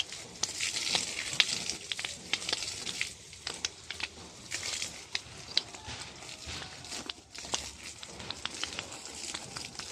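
Garden plants being watered in the morning with water, a steady spattering hiss with irregular splashy bursts throughout, fairly close and moderately loud with no talking.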